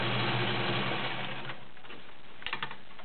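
A Kenmore model 1803 sewing machine stitches through 12 layers of cotton, a steady whirring run for about a second and a half that slows and fades, followed by a few brief mechanical clicks.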